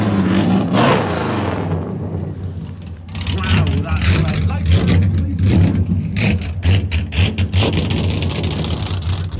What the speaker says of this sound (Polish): No i dźwięk tej V12 jest po prostu cudowny.